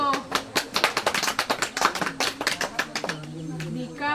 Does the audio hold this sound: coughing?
no